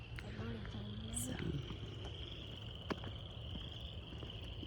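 Frogs calling at night near ponds, a faint steady chorus of high trilling under soft background noise and a few brief voice-like sounds.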